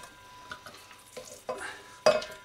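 Blended bubble and squeak mixture tipped from a container into a bowl, with soft scraping and a few knocks and clatters, the last one loudest, heard close without talk.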